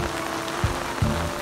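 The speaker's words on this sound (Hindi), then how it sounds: "बारिश हो रही है" Steady rain falls outdoors during a Sunday outing, a dense hiss of drops filling the whole short stretch, with a couple of low thumps in the middle and no voices.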